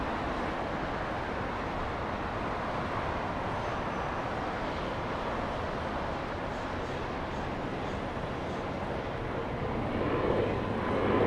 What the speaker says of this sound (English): Taxiing pretty quickly